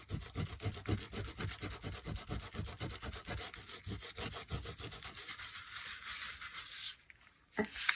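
A printable transfer is rubbed onto fabric by hand, giving a quick, rhythmic scratchy scrubbing of repeated strokes, fairly faint and close, which stops near the end before a brief final rustle.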